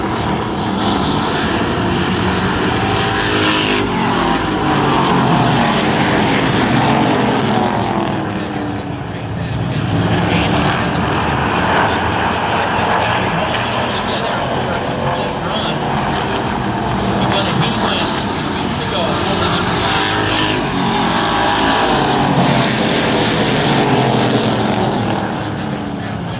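Race cars roar around the Wiscasset Speedway oval in a loud, continuous, dense engine drone that swells and fades as the pack sweeps past, never dropping away.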